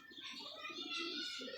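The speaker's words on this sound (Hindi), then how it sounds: "लाल का शिकरा कबूतर है ये" A red Shikra pigeon coos in a soft, steady run of low murmuring calls that lasts under two seconds, close by with a light airy background.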